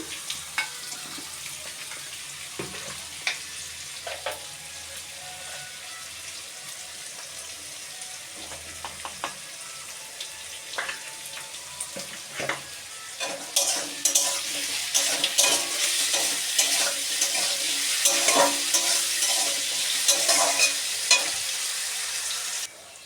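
Potatoes and onions fry in a pan for a mutton dish, starting as a gentle sizzle with occasional stirring clinks and swelling into a louder, busier crackle and scrape in the second half, with no voices.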